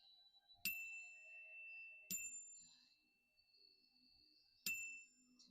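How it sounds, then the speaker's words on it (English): A small handheld bell chimed three times at uneven intervals, each strike bright and ringing with a long, shimmering decay in an otherwise quiet room. "I'm going to chime my bell to cleanse the air."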